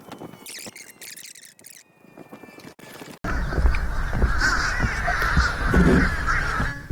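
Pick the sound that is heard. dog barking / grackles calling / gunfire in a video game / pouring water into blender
grackles calling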